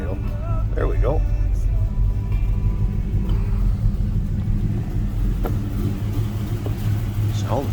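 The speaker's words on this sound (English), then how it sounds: "just a nice little rumble coming out of that 350" The 350 V8 in a 1941 Chevrolet Super Deluxe Coupe street rod idles with a steady, deep, even rumble held close throughout, with faint brief voice sounds over it.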